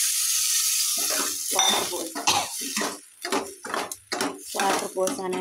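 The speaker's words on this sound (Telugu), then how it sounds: "ఇప్పుడు నేను వాటర్ పోస్తున్నానండి." Water hits a hot pan of frying upma vegetables with a short hiss, followed by clinking of utensils against the pan while a person talks over it.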